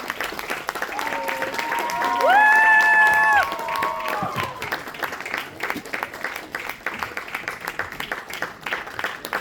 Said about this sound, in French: on va demander à tous les candidats de revenir sous vos applaudissements sur scène